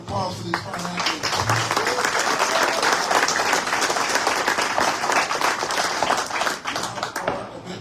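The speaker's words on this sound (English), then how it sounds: "Another round of applause for these fine athletes." Sustained applause from an audience at a Special Olympics inclusion fundraiser clay shoot held by the California Knights of Columbus, steady and dense throughout with scattered cheers and voices mixed in.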